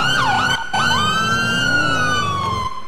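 A wailing ambulance siren from a video game police patrol sweeps up and down continuously, loud and close, with no talking over it.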